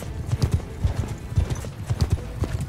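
Horse hooves of a mounted bandit in Mount & Blade II: Bannerlord, a steady rapid galloping clip-clop close by and fairly loud, continuing throughout with no speech.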